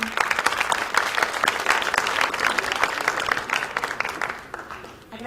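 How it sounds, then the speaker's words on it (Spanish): A congress audience breaks into loud, sustained applause, a dense wash of many hands clapping that holds steady and then fades slightly near the end. "Un fuerte aplauso."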